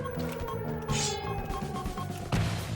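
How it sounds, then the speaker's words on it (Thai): Flash grenade blast in the Free Fire shooter game, a sharp burst around the one-second mark amid constant game sounds and other impacts throughout. "เอาระเบิดแฟช"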